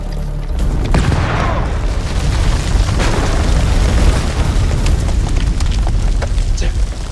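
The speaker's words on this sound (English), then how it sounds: "Grenade!" A grenade explosion in the House of Ashes video game, one loud deep boom that rolls into a sustained rumbling roar, close and heavy throughout.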